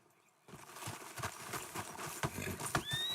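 Horse hooves clip-clop steadily at close range with occasional snorts and a brief whinny, rising from near silence in a Red Dead Redemption 2 game scene, with no talking.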